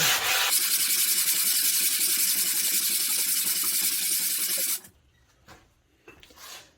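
Close, steady abrasive rasping as a 120-grit Cubitron disc grinds across heavily rusted metal, running continuously for several seconds and then cutting off abruptly, leaving a quiet room with a few faint knocks.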